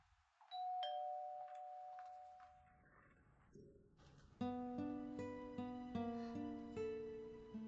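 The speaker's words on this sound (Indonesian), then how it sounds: "Hansiu, ada yang menekan bel pintu." An indoor doorbell rings in a home, giving a clear two-tone chime followed by a longer run of sustained, ringing electronic tones, fairly loud and alone with no talk.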